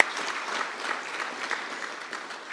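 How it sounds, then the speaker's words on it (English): Audience at a morning business networking event applauding, a steady, fairly close wash of clapping that carries on without pause throughout. "Let's give Adam another round of applause"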